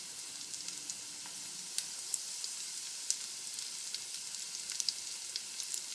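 Garlic sizzling in a pan after sauteed hen of the woods mushrooms, a steady soft frying hiss with scattered tiny pops and crackles, close and fairly quiet, with no talking.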